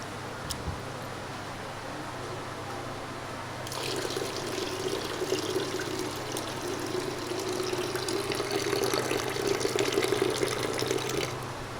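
Tap water runs steadily over moong dal being washed for a khichdi of Gobindobhog rice. It starts after a few quiet seconds and keeps up as a close, even rushing splash with no talk.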